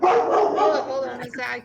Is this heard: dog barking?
yes